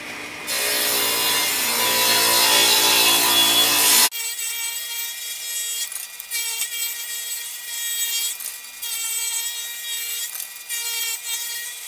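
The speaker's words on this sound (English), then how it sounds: "So I'm gonna rip those on the table saw real quick." A table saw rips wood furring strips with a loud, sustained whine for about four seconds, then cuts off abruptly, leaving quieter intermittent rubbing and handling sounds of wood.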